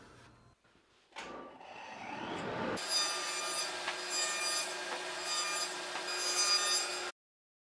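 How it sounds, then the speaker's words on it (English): A jigsaw notches the corner of a wooden panel for a belt grinder tool stand: a brief scrape and start, then a loud, steady buzzing cut with rhythmic pulsing that stops abruptly. "Here I'm using the jigsaw to notch out the corner of the panel"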